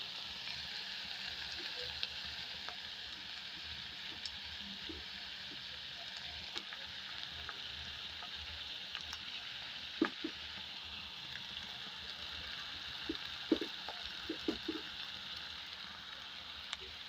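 Sorrel leaves crackle and sizzle in a hot pan, a quiet steady frying hiss scattered with small pops and crackles, with no voices.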